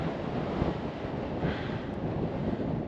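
Steady, roaring wind buffets the microphone on a cold mountain summit, Mount Buckskin in Colorado's Pike National Forest, a continuous loud rush with no voices.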